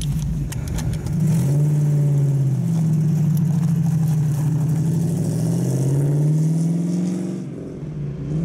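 A Corvette sports car engine revs up and accelerates with a loud, deep growl, holding strong for several seconds before easing off.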